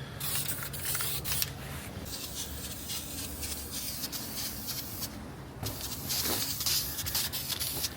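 Aerosol spray paint hissing as white paint goes onto the brake calipers of a Chrysler 300 Redeye during a rebuild, steady close bursts of spray with short pauses between passes.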